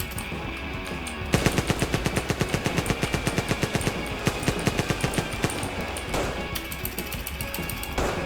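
Rapid automatic gunfire in GTA, a long burst of evenly spaced loud shots followed by scattered single shots and bursts, under faint game ambience.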